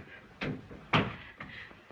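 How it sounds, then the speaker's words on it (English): An interior door closing in an old black-and-white comedy film, heard as a couple of soft knocks and a firmer thud, near and fairly quiet, with faint room noise between. "I could have sworn I heard that door close."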